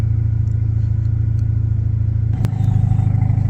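A 2.5 Kia Stinger with its mufflers deleted runs in a steady, loud, low exhaust drone, close by. After a sharp click near the end, it swells slightly louder.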